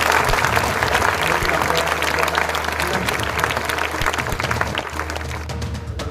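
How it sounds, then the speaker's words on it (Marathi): Audience at a school felicitation event in Chandrapur applauding a former student, steady dense clapping sustained throughout over a low hum from the hall's sound system. "शाहरुखचं सगळ्यांनी टाळ्या वाजवून"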